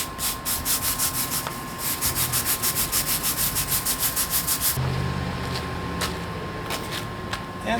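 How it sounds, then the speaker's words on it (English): A stiff brush scrubs a concrete driveway being prepped for repair, giving a steady series of rhythmic rubbing strokes up close, slowing to a few scattered strokes near the end. "once you put this in, you will need to scrub it with a brush"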